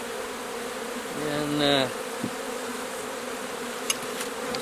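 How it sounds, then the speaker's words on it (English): Honey bees buzz around an open beehive inner cover, a steady drone with one bee passing close and louder, plus a few faint clicks; a voice briefly speaks. "There's bees on it,"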